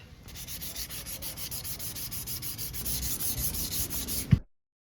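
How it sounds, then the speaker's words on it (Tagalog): 360-grit sandpaper rubs steadily over a motorcycle grab bar, a close, continuous scratchy sanding with regular strokes, ending in a brief bump before silence. "So gagamitin ko itong 360, so okay na to para ma-roughen po yung surface nitong grab bar."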